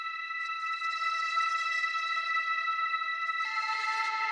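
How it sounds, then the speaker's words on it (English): A lo-fi techno sample run through crunchy, crackly distortion with auto-panning that slowly swells its volume, heard as a sustained harmonic drone with a steady noisy crackle that shifts to a brighter, grittier tone near the end, with no voices. "instead of just getting that crunchy, sort of crackly distortion the whole way"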